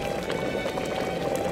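Floodwater rushing through the destroyed sluices of the Kakhovka dam in Ukraine, a loud, steady, dense roar of churning water with no breaks.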